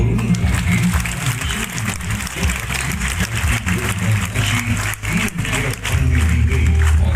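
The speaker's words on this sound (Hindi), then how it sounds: "तालियां दीजिए दोस्तों" Applause from an audience at a wellness company's corporate event: a steady, dense wash of clapping that lasts throughout, with a low droning tone or music underneath.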